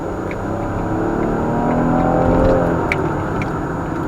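A 2015 Jeep Cherokee Sport with a V6 accelerates on the road, a steady engine drone and road noise from inside the cabin that rises gently, with no talk.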